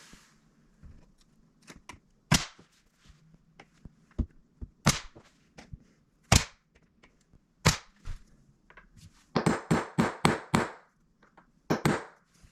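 A nail gun fastens wood on a staircase in an old house: sharp, loud shots fire one by one at irregular intervals, then a quick burst of four or five in a row near the end, with quiet pauses between.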